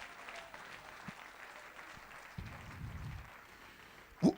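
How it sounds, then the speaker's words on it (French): A church congregation applauds at a low, somewhat distant level with steady scattered clapping, ending in a brief louder thump. "Applaudissez Jésus, alléluia."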